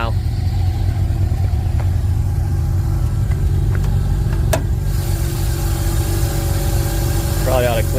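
A car engine that had been stalling idles steadily up close, a continuous low rumble with even vibration lasting throughout.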